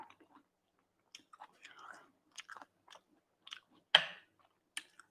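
Crunchy adobong sitaw, Filipino string beans, are chewed close to the microphone in scattered short bites with one sharp loud crunch near the end, between soft bits of speech.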